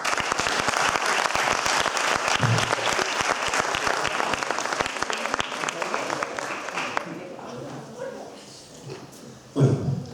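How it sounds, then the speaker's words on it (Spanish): An audience at a seminar on tourism development in the Canary Islands gives loud sustained applause that tapers off and fades near the end, with a few scattered claps and murmurs after. "Quería pedir un aplauso a Calínico por estar hoy aquí con nosotros,"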